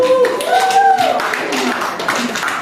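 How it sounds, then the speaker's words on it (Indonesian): Scattered hand claps from a classroom of students applauding a group, a short burst of uneven clapping near and fairly loud, with a voice speaking at the start and other chatter mixed in. "Beri semangat tepuk tangan untuk kelompok 2."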